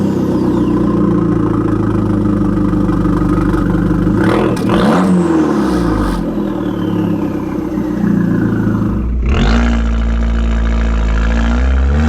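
An Abarth 595 Competizione idles with a deep, steady exhaust rumble, then revs sharply twice, roaring up and settling back, loud and close throughout.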